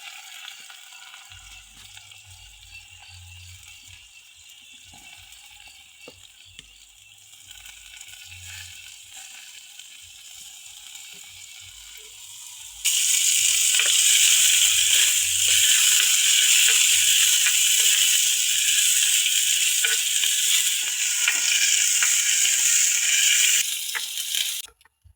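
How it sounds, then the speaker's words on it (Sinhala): Red onion, garlic, green chili, curry leaves and rampe fry in hot oil for a village-style chicken curry, a steady close sizzle that suddenly turns much louder and brighter halfway through, with faint stirring clatter. "ඒ තෙල් ටික පැහුනට පස්සේ අපි කපාගත්ත රතු ලුණු, දී ලුණු, ආමු මිරිස්, කරපිංචා, රම්පේ ඒ ටික තෙලේ බැද ගන්න."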